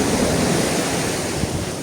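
Sea waves wash steadily onto a Black Sea beach at Chornomorsk in September, a continuous broad rushing surf with some wind noise against the microphone.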